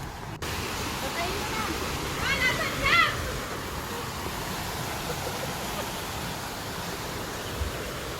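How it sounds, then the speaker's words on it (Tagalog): Rushing water at Tai O Infinity Falls in Hong Kong, a steady broadband roar with a few faint brighter sounds partway through. "marinig nyo na yung lagaslas ng tubig"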